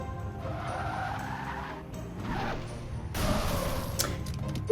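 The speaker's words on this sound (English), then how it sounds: "let's take a ramp with a normal Warthog" A Warthog vehicle in Halo 3 drives and skids, its steady engine drone rising into tire squeal and a surge of scraping noise near the end, with no talk.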